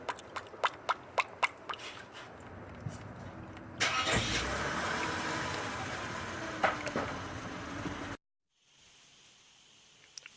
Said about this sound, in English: Now you might hear a car start up.